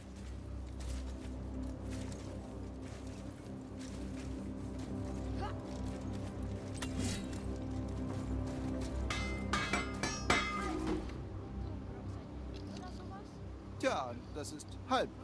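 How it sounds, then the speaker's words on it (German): A dwarf hammering at a forge in the God of War video game, heard as scattered metallic clinks and strikes over a steady game ambience, with a person talking throughout. "Das ist schon wieder ein Zwerg am Hämmern."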